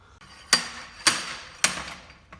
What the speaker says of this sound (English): Just put a slide hammer on these, connect them.